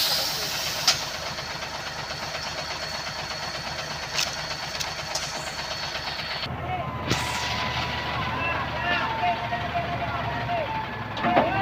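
A truck engine runs steadily during the recovery of a trailer that has jackknifed across a road into the verge, with hissing and a few knocks, and voices talking over it.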